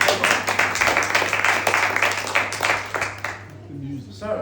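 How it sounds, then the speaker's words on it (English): A family reunion gathering claps for relatives, a close, rhythmic patter of hands over a steady low hum, fading out after about three seconds into near quiet. "Let's give a clap to them"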